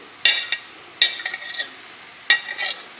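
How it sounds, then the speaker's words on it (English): Three sharp scraping strokes of a knife on a ceramic plate, each a bright rasp followed by shorter scrapes, close by with quiet pauses between. "Sorry about the noise the knife is making on the plate"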